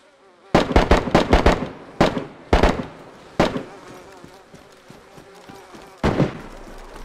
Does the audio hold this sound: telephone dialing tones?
no